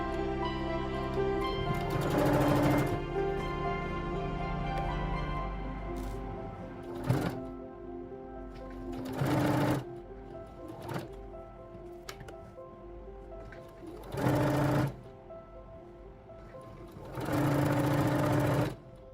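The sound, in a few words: sewing machine stitching lace onto canvas neck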